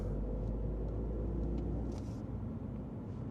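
A BMW Z4 E86 roadster with a large naturally aspirated engine drives along, its low, steady engine rumble filling the cabin with a constant droning roar and no talk over it.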